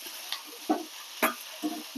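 Sliced okra fries in a pan under a steady soft sizzle, broken by a few light scraping stirs of a utensil in quick succession.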